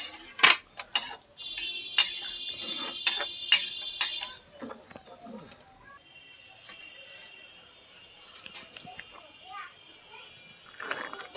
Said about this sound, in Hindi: किशमिश को हम ज़्यादा नहीं भूनेंगे।